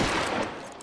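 Gunfire in L.A. Noire comes as a dense, loud burst of overlapping shots with no clear gaps, close and fading slightly at the end.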